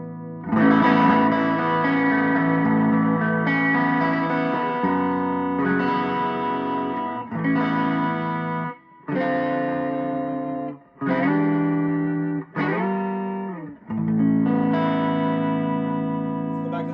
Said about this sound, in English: let's hear that compared to both pickups humbuckers